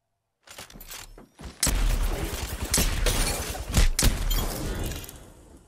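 Gunfire rings out in a 1v1 match of Apex Legends played on R5Reloaded. A quiet shot opens a string of loud, punchy, close shots fired in rapid irregular bursts.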